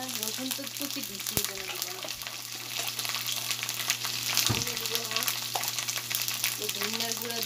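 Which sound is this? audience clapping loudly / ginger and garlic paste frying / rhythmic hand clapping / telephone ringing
ginger and garlic paste frying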